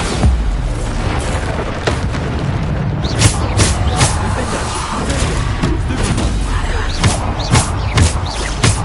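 Repeated Bombarda spell explosions burst in Hogwarts Legacy combat, a series of loud booming thumps every second or so over a dense, roaring game soundtrack.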